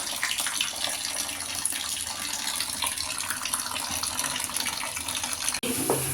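Water pouring steadily onto a block of coco peat to soak it, a continuous close splashing rush that ends abruptly near the finish with a brief knock.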